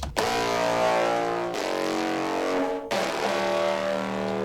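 A loud, distorted synth bass from a foghorn-style drum and bass track in FL Studio plays in sustained harmonic-rich notes, its filter and FM automation shifting the tone, with two brief cuts between phrases.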